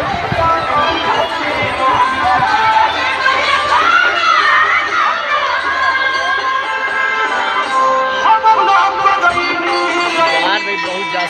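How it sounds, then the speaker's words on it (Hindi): A dense, loud crowd at the Ramnavami fair at Gaighat temple keeps up a continuous roar of chatter and shouts, with children's voices mixed through the noise. "कितना भीड़ लगा है"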